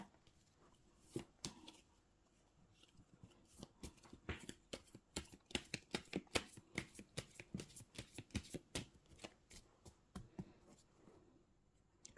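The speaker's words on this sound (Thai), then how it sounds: "ขอเป็นตัวแทนสับไพ่ตัดไพ่ให้คนเกิดวันศุกร์ค่ะ" Tarot cards are shuffled and cut by hand for a Thai daily fortune reading, giving close, crisp riffling and slapping bursts in an uneven rhythm that grows busier midway, with no talking.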